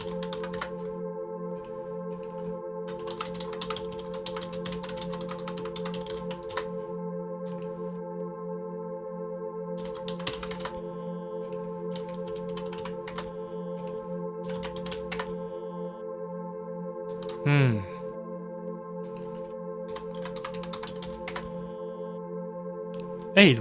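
Computer keyboard typing during the video game Fingerbone, scattered light key clicks in short bursts over a steady droning game soundtrack, quiet and close.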